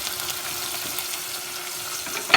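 Garlic and pepper sautéing in hot oil in a pan for seafood pancit canton, a bright steady sizzle with scattered spits and a sharp clatter at the end, no voices.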